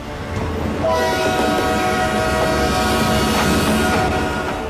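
A local train in Karachi sounds a long, steady horn over the rumble of rolling carriages, loud and close, with no voices.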